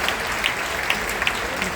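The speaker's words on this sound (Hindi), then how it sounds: "एक बार जोरदार ताली हो जाए पहले तो हमारे आज के लिए" Audience in a university auditorium breaking into loud applause, a thick, sustained roar of clapping with a few sharper claps standing out, and faint voices mixed in underneath.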